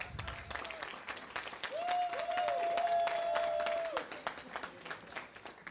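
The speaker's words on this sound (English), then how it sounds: "Can we please give him a round of applause?" A room of attendees at a foreign relations council panel event claps at moderate volume, dense overlapping applause throughout with a brief electronic tone sounding over it midway.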